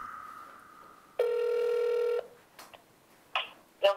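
A phone call rings out in a kitchen as a single loud electronic ring tone lasting about a second, followed by a few short clicks and brief sounds of handling.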